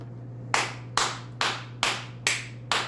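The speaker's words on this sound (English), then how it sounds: "Gotta clap that one up." Six sharp hand claps, close and loud, fall in a steady rhythm about half a second apart, over a low constant hum, with no talking.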